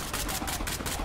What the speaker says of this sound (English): Where the hell are those gunshots coming?